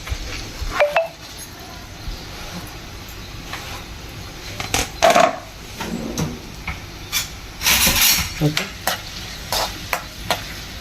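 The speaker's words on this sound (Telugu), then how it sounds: "ఆయిల్ వేడెక్కిందండి. ఇప్పుడు మనం ఆనియన్స్ వేసుకుందాం." Onions frying in hot oil for a goat blood fry, a steady sizzle and hiss with repeated stirring scrapes and clinks of a utensil against the pan, close by.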